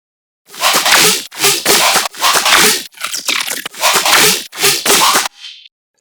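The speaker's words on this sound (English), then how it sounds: "And all together those basses sound like this." Layered riddim dubstep basses playing together, loud and harsh with snarling, crunchy texture, hitting in a repeating start-stop pattern of roughly seven chunky bursts.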